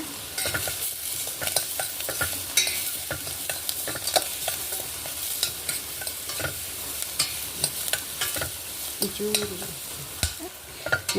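Green chillies frying in a pan for Andhra-style dal, a soft steady sizzle broken by frequent sharp scrapes and clicks of stirring, close up and with no talking.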